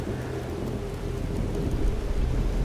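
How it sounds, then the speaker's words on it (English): In the video game Life is Strange Double Exposure, a thunderstorm on a loud, stormy night: dense steady rain pours with a deep rumbling thunder swell building toward the end, loud and close, no talking. "A loud, stormy night."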